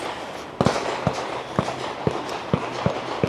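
Rifle shots at a regional shooting competition stage ring out in a series of about eight sharp, evenly spaced cracks over steady background ambience, fairly close and distinct, with no talking.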